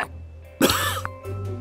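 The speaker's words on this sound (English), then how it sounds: "He has to cough." A single sharp, close cough in the video game Manual Samuel, followed by a second rougher cough and throat-clearing sounds.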